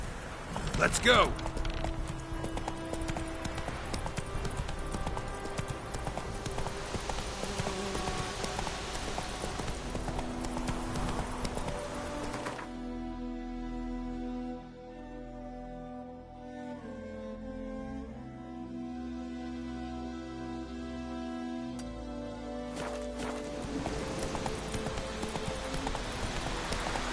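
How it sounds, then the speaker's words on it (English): Horses gallop in The Witcher 3: Wild Hunt, a loud, continuous rhythmic drumming of hooves with game music playing alongside and no talking. "I'll ready our horses."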